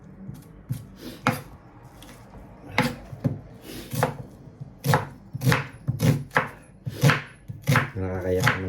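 Onions being chopped with a knife on a board in a home kitchen: a run of sharp, close, loud knife strikes in uneven bursts, quickening toward the end, with no talk over them.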